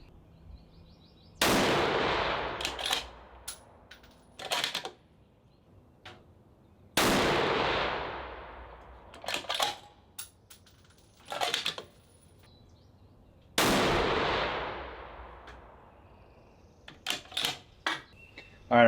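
Three loud rifle shots fired outdoors with a muzzle brake or silencer, each a sharp crack trailing off into a long decaying echo, spaced several seconds apart, with scattered clicks and knocks of handling between them.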